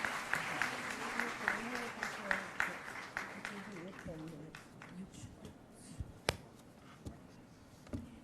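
An audience applauds to welcome a speaker at a formal public event in Tamil Nadu, a faint, spread-out patter of clapping with a few sharper taps, while a voice keeps talking under a soft tonal chime.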